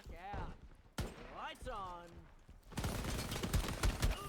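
Hip-fired gunfire in the online shooter Shatterline comes as a rapid, crackling burst of shots that fills the final second and a half, after a stretch of in-game voices and effects.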